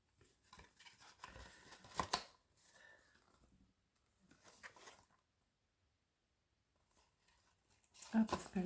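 Scissors snip through a coffee box cardboard for a junk journal in a few short, crisp cuts with gaps between, and a voice talks quietly in between.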